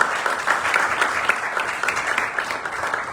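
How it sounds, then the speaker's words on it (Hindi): A Sunday church congregation claps loudly together during worship, a strong sustained burst of applause with audible individual claps pulsing through the steady wash. "आज जोर से सब तालियां।"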